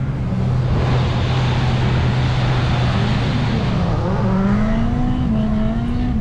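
A Formula Drift car's engine drones loud and steady, its pitch sliding down and then climbing again as the car is driven over, with no voices.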